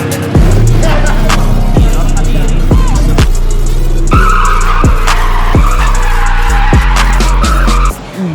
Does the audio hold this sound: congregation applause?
no